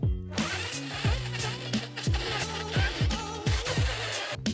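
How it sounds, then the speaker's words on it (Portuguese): A blender grinds frozen açaí with banana and sugarcane juice, a loud, steady motor whir with rhythmic lurching pulses as the thick mixture churns. "Parei um pouquinho o liquidificador"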